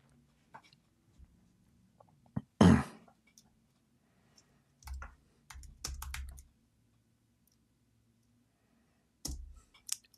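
Scattered keystrokes tap on a computer keyboard: short, quiet clicks and brief bursts of typing separated by pauses, close to the microphone in an otherwise quiet room.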